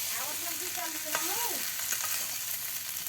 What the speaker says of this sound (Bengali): আলুগুলো আম্মু নেড়ে ছেড়ে সুন্দর করে ভাজি করে নিচ্ছে